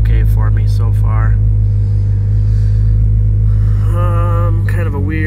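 A Mitsubishi 4G63 engine with an AEM Series 2 unit idles high after a cold start, a loud steady low rumble that holds even, while someone talks over it.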